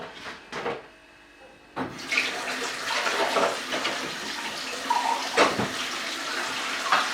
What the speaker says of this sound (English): I'm going to pour some cold water over it.